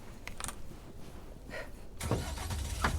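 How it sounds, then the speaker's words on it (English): A mail truck engine in a video game set in a lakeside town, starting up and running as a steady mechanical hum that grows louder partway through, with short bursts and clunks over it. "let's see if the mail truck sound effects are back"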